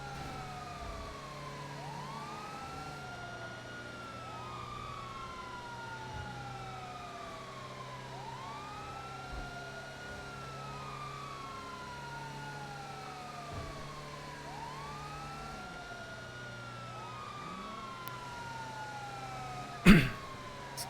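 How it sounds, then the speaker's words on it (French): Wailing sirens from emergency vehicles rise and fall repeatedly in overlapping cycles, steady and fairly loud, with a sharp knock near the end. "Ah, ça va fort les sirènes."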